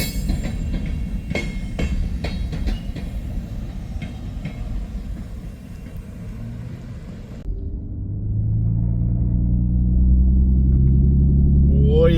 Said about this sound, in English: that's a pretty hefty train.